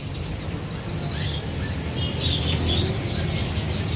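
Caged songbirds for sale at Abadi Bird market in Palmerah, including a coconut hummingbird (kolibri kelapa), chirp and tweet continuously over a dense low market hubbub, with thin high calls overlapping throughout.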